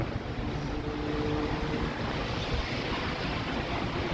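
Wind blowing at night around a hotel swimming pool and jacuzzi near Ayutthaya, a steady broadband rush with heavy low rumble and microphone buffeting, constant and close throughout, with no talk.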